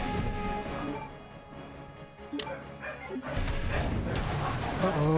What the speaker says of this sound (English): Got the dogs going crazy outside.